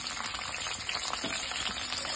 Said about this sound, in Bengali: এখন আমি রসুন দিয়ে দিলাম চাক করে